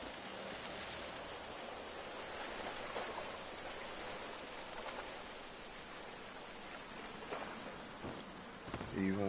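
Steady rain in the video game Generation Zero, a broad even hiss of drops spread across the whole stretch with faint scattered patters, at a constant moderate level with no talk.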